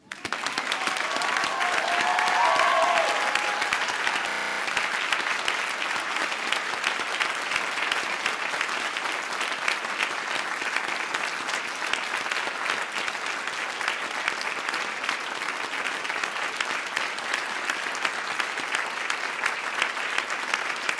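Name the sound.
audience applause at a PhD graduation ceremony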